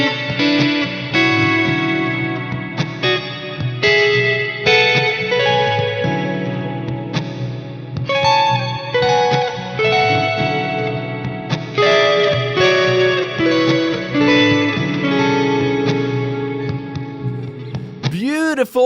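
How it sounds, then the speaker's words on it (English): Moody, crunchy cluster chords played with distortion, chorus and echo effects, a run of rhythmic chord stabs and sustained voicings, loud and alone, ending with a brief sweeping effect. "So the cluster chords sound like this."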